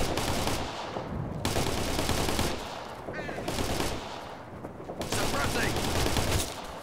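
Sustained automatic gunfire from the military shooter game Operation Flashpoint: Red River, dense overlapping bursts of rifle and machine-gun fire rolling on for several seconds with brief lulls, loud and close.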